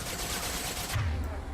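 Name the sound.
gunfire in video game Mass Effect 2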